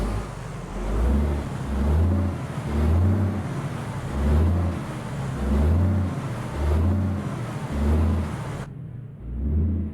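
Mercedes engine of a Setra 517 HDH TopClass double-axle coach in Euro Truck Simulator 2, revving up and down in a steady repeating cycle of deep swells, loud and close, cutting out abruptly near the end.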